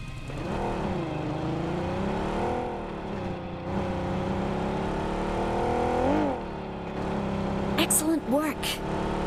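A car in PUBG drives along with a wavering engine whine that rises and falls as it revs, loud and close, with voices talking over it toward the end.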